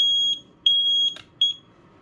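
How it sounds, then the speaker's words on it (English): A wall-mounted radon level alarm sounds its test signal: three sharp, high electronic beeps in quick succession, close and loud in a quiet room with a faint background hum. "We got our level alarm mounted on the wall. It has a test button on it."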